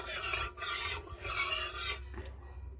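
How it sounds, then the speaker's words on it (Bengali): A spatula stirs hot mustard oil on an iron tawa in a home kitchen, making three loud, rasping scrapes before it stops, with no talking. "এখন আমি খুন্তি দিয়ে তেলটাকে নেড়ে দেব"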